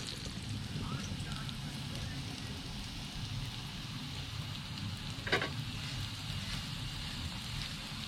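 Steady, soft sizzling of vegetable fritters frying in hot oil continues throughout, with a brief clink partway through.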